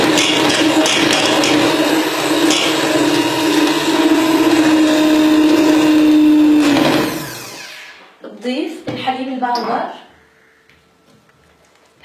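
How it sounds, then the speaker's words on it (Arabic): An electric mixer whirs steadily at high speed through anise cookie batter with vegetable oil for about seven seconds, then cuts off abruptly, leaving a few brief clatters and faint kitchen sounds. "كمان رح أخفق شوي على سرعة عالية حتى يختلط الزيت مع المزيج"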